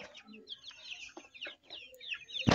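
A hen clucks in short, repeated bursts close by, with other birds chirping softly in the background.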